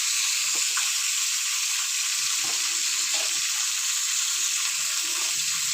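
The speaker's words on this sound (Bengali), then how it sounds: "ওই তেলে এবার এখানে পটলগুলো আমি ভেজে নেব" Pointed gourd pieces frying in hot oil with salt and turmeric, a loud, even hiss of sizzling that runs continuously, with faint low clatter of a utensil in the pan.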